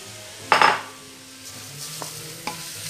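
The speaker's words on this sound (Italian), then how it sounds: "stiamo tostando il riso" Rice toasting in a pot for artichoke risotto, stirred with a utensil: a loud scraping stir at the start, then quieter scrapes and light clinks of the spoon against the pot under a faint background hum.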